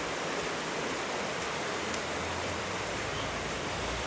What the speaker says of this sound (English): I love the sound of that water.